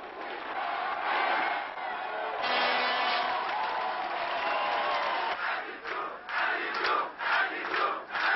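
Large crowd cheering and shouting at close range to greet newly elected French president Jacques Chirac on election night 1995, a continuous roar of voices with rising whoops and bursts toward the end.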